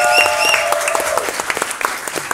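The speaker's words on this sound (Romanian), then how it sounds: "multă gălăgie, multe aplauze" Studio audience on a Romanian talk show applauding a special guest, dense clapping that starts full and thins into scattered, uneven claps toward the end.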